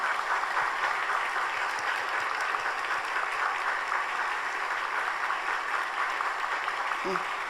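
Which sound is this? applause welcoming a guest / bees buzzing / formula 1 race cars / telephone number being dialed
applause welcoming a guest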